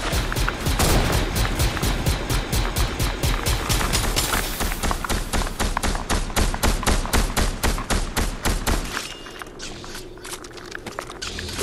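Rapid, loud gunfire in a Star Wars video game, with shots fired in a fast rhythmic stream for about nine seconds before the firing thins out and stops.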